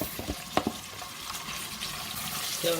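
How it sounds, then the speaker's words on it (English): Tuna sautés in oil and a kontomere palava stew sauce, a soft sizzle and stirring with a couple of brief utensil clicks, close and fairly quiet, with no talking. "So we are basically going to be like sauteing it in the sauce for just a few minutes, in the oil for just a few minutes."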